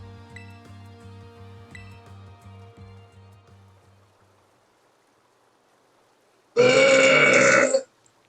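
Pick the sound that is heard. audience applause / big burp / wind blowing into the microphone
big burp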